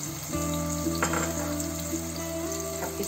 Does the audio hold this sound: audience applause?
no